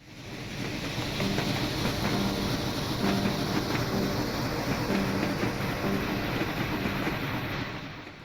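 A Union Pacific Big Boy steam locomotive in Train Simulator Classic, running at about 24 miles per hour, gives a steady, continuous rolling rumble with a faint repeating exhaust beat, heard alone at moderate loudness.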